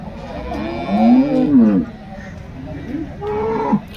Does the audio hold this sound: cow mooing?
yes